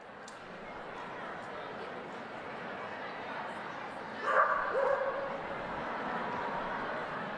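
A small dog gives a brief burst of yips and barks amid the steady murmur of a large crowd at a papal general audience, standing out only for a moment.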